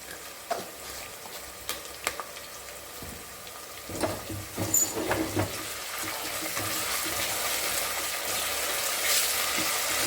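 Ginger paste and onion sautéing in a pan for tomato rice, a soft sizzle with scattered stirring scrapes and clinks that builds into a steady frying hiss.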